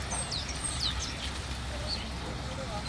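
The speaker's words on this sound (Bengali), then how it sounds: "দেখছেন কত পাখি, কত পাখি, পাখি আর পাখি।" A flock of small birds chirps in a park, scattered high tweets over a constant background rumble of nearby traffic.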